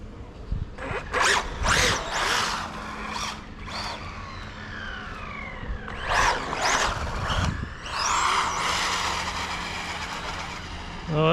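A Traxxas Mini Rally RC car on a 3S battery makes repeated short whining bursts as it speeds past up close, with wind noise and brief quiet gaps between runs.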